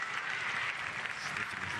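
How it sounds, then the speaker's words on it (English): The home crowd at a Republic of Ireland U21 versus Slovakia U21 football match applauds an injured player, a steady wash of stadium clapping with a commentator talking over it. "the applause of the home support to him"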